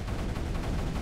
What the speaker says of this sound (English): We're putting a cannon on there then.